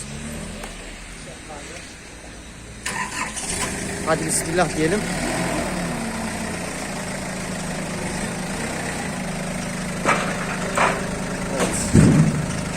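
A transport truck's engine turns over and settles into a steady low idle nearby while someone speaks briefly over the rumble, with a few clanks and bumps during loading.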